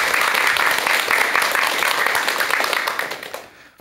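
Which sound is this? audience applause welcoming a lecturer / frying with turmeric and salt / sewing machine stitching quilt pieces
audience applause welcoming a lecturer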